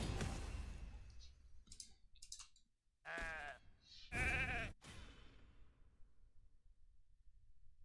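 Sheep bleating in the video game RAID: Shadow Legends: a burst of clicking game effects, then two loud, wavering bleats close up, the second longer, then fading game ambience.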